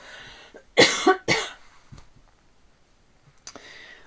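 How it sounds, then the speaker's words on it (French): A few sharp coughs close to the mic in quick succession, followed by quiet and a faint click or breath. "Alors je dois tousser"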